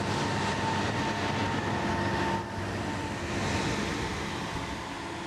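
A Hunslet 0-4-0 diesel hydraulic rack locomotive runs on a rack railway, giving a steady, loud mechanical drone with a constant hum throughout and no voices.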